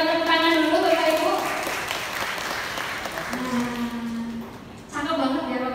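An audience at a digital marketing community session claps in a steady wash that fades midway, with a voice speaking over the start and again near the end.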